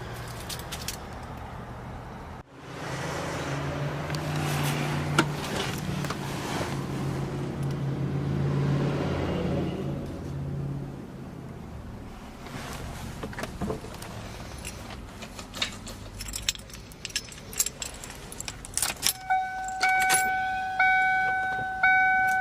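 A 1995 Ford Mustang GT 5.0 with a 5-speed manual fires up, then settles into a steady, close exhaust rumble that rises and falls over the following seconds, with some lighter clicks and rattles near the end.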